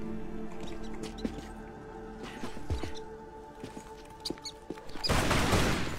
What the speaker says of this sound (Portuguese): Mano, olha o tamanho desses ratos, cara.